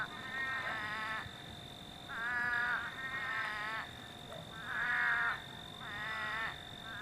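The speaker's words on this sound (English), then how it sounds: "There are frogs." Many frogs calling after a big rain, trilling croaks arriving in repeated bursts of about a second each with short pauses between, fairly close and moderately loud over a quiet background hum, with no talk.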